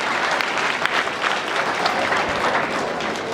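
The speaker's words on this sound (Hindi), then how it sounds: "ज़ोरदार तालियों के साथ मैं डीसी साहब को दावत स्टेज देता हूँ।" Dense, steady applause from an audience at a school annual day function in Doda, a broad crowd clapping continuously and fairly close throughout.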